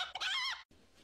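Chickens cluck and squawk close by in a short burst of harsh, choppy calls, followed by a brief pause and quiet background noise.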